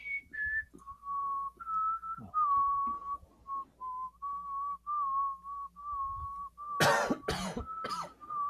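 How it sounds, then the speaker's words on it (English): A high whistle holds a steady tone, then two or three sharp coughs burst out near the end, close by and fairly loud. "That really doesn't hide the cough."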